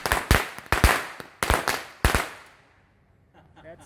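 Firecrackers set off by a boy named Reggie crack in four sharp, loud bangs at uneven intervals, each leaving a short rattling tail, before the noise fades into quiet outdoor ambience.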